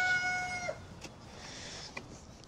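A rooster crows briefly at the start, followed by a few faint clucks from chickens nearby.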